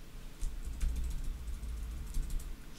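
Steady typing on a computer keyboard while writing code, a dense run of soft, close keystrokes that continues from the start to the end.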